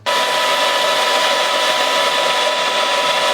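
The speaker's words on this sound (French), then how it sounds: "La seule solution, ça a été de la sécher au sèche-cheveux." A hair dryer switches on abruptly and blows with a steady, loud, airy whir, drying a wet camera, holding constant throughout.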